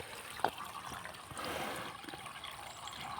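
Water trickles from a pipe outdoors at a rural home, a soft, steady wash of running water with one brief splash near the start; no one speaks.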